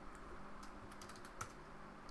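Typing on a computer keyboard, a quiet run of light, irregular key clicks with one slightly sharper tap near the end, heard alone against low background hiss.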